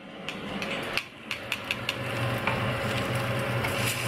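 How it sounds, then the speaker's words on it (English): Pork bacon sizzles steadily in a frying pan, with a few sharp clicks and scrapes as the strips are flipped over partway through, the hiss continuing close and moderately loud. "Bacon flip."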